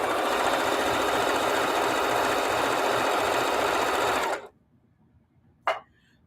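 A sewing machine joins quilt blocks in one loud, continuous run of rapid stitching that cuts off abruptly after about four seconds, leaving a short clack before quiet.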